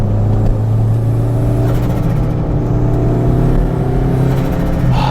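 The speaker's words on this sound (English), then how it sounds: "that turbo sounds so good, right?" Toyota MR2 Turbo engine pulling hard on a mountain road, a loud, steady, close-up drone with strong low harmonics and turbo whir holding through the whole stretch.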